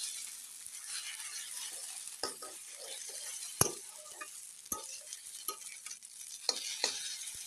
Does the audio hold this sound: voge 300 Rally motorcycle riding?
no